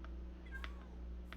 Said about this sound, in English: My god, I have cats out here.